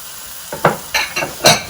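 Drained, unrinsed canned black beans being stirred into a sizzling veggie nacho mixture in a pan: a quiet start, then several short scraping, clattering stirs over a steady sizzle.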